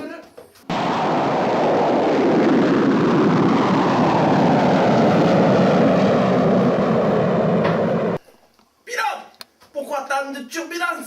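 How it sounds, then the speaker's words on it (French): A roaring jet-engine blast starts suddenly and holds loud and steady for about seven seconds as a shuttle-like craft takes off, then cuts out, after which voices speak. "Pilote 2, paré au décollage, allumez les réacteurs."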